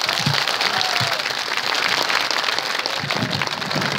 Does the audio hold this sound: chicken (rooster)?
no